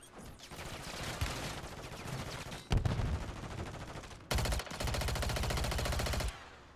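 Rapid automatic gunfire in a Call of Duty match, with dense sustained bursts of machine-gun fire broken by brief pauses, loud and close with no talking.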